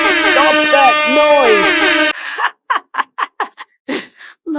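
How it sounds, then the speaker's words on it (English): A loud air horn blares in one sustained, wavering blast lasting about two seconds, then cuts off abruptly and gives way to a string of short gasps and yelps. "What's with that air horn?"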